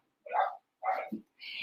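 Household dogs bark in three short, close bursts separated by brief silences, with a softer whimpering note tucked between them.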